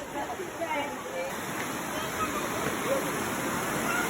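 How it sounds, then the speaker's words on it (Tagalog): Kapitan Falls waterfall in Calbayog rushes in a steady broadband roar, while a person talks over it. "Ayan dito lang yan guys sa Kapitan Falls"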